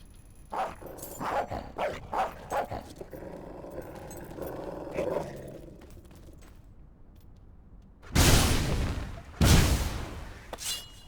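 A dog in the video game Fable III gives a run of short barks and yips, then whimpers quietly before two loud, close bursts of barking near the end; no one talks.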